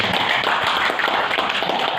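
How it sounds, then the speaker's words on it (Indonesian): An audience at an AXA corporate presentation claps hands together in a dense, even patter of many overlapping claps, close and fairly loud, with no talking over it. "Tepuk tangan dong buat pengundang"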